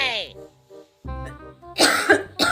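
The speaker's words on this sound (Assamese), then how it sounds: "কাহি মই মৰিব ওলাইছো" An elderly mother-in-law in an Assamese domestic comedy scene coughs in a short, rough burst near the start, followed by other vocal sounds and a louder throaty outburst toward the end.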